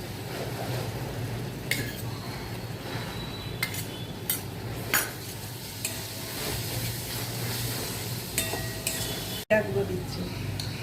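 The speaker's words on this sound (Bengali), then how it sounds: "এখানে আমি একটু রসুনের পেস্ট দিচ্ছি। দিচ্ছি আদা লঙ্কা পেস্টটা।" Garlic, ginger and chili paste sizzling in a pan for a fish rezala, a steady close hiss broken by several clinks of a spoon on metal and a sharp knock near the end.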